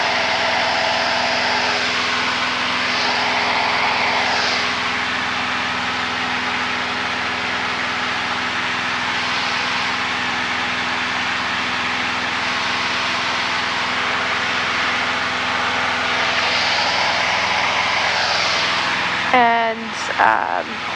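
Light propeller airplane engine droning steadily through climbing turns in flight, a constant loud cabin hum with slowly shifting tones, ending with a brief burst of radio or voice sounds near the close.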